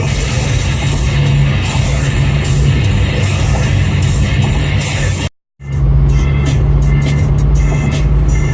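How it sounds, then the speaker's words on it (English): A truck passes slowly, giving a loud, continuous road-vehicle rumble with broadband noise throughout. A brief dropout cuts it partway, then the rumble returns. "Truck right there was going ultra slow"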